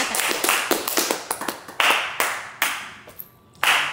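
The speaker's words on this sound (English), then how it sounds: "I'll get Chris a round of applause, man." A small group of people clapping in a house, a quick run of sharp, close claps that thins out into a few spaced single claps, with no talking.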